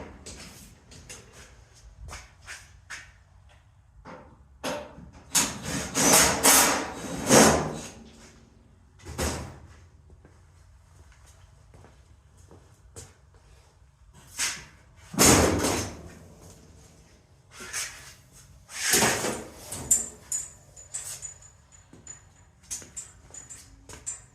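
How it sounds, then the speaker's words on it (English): A Mustang car door being adjusted: a run of sharp metallic clunks and slams, several bursts close together with quiet gaps between, loud and near, with small rattles and taps in between. "A little bit of door adjustment."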